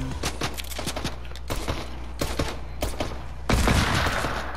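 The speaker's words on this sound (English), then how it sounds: "there's somebody shooting at us" Gunfire in the Fortnite video game, a burst of rapid shots crackling through a dense, noisy mix, with a heavier volley near the end.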